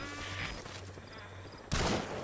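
Video game gunfire in a shooter stream: a steady mix of game sound with a sharp, loud burst near the end, no speech over it.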